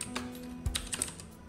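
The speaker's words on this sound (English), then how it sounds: "click here and then Control O on your keyboard" Computer keyboard keys are pressed for a Control O shortcut, a few soft close clicks in an irregular rhythm, nothing else heard.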